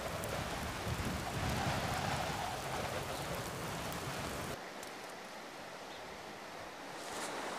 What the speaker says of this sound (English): it's been raining ever since I have been on the mountain